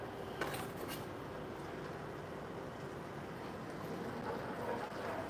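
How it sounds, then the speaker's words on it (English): A whisk works through a roast chicken pan sauce in a roasting pan, a soft, continuous scraping and swishing texture at low level with no talk. "I'm going to switch over to a whisk"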